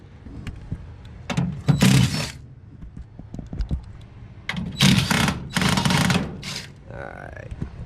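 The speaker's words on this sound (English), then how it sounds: "So I'm gonna go ahead and remove these screws." Screws removed from the burner assembly of a York rooftop unit with a power driver: two or three short whirring bursts, close by, with a person talking around them.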